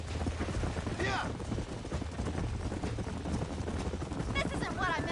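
A herd of horses gallops in Red Dead Redemption 2, a dense rumble of hoofbeats with a couple of whinny-like calls rising above it.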